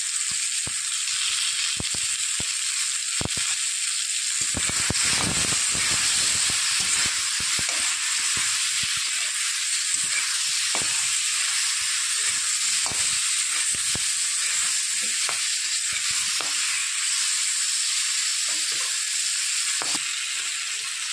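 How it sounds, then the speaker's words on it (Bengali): Flat beans (sheem) frying in a pan with salt and turmeric, giving a steady, loud, continuous sizzle with occasional crackles and stirring scrapes throughout, with no voices. "সিমটা আমি হালকা ভেজে নিয়েছি, এবার আমি তুলে নেব"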